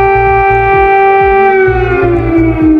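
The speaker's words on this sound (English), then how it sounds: "The sirens sound in Ukraine as Russia launches more attacks." Air raid sirens wailing in Ukraine during Russian attacks, a loud, sustained rising-and-falling tone with steady harmonics filling the whole stretch, with faint low rumble beneath.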